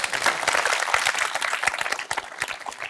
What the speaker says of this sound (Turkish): Bir alkış önce.